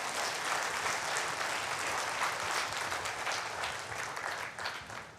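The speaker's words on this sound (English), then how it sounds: "give a big round of applause" Audience applause at a chartered accountants' annual conference session honouring its organizers: dense, steady clapping from a large crowd sustained throughout, tapering slightly near the end.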